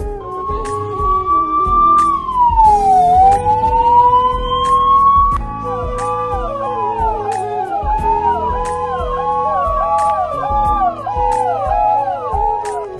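Wailing ambulance sirens rise and fall in overlapping sweeps, loud and continuous, as several emergency vehicles sound together.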